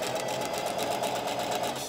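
Up close, a sewing machine runs steadily in a quick, even whir and rattle as it backstitches at the start of a zipper seam.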